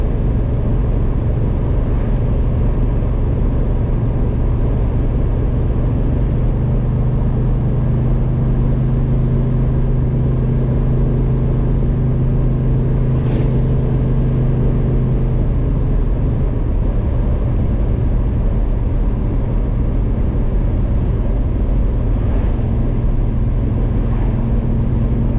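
A 1979 Chevrolet El Camino cruising at about 60 on a spring drive, its engine and road noise forming a loud, steady droning rumble from inside the cab, with a low engine tone that holds for a while and then shifts slightly.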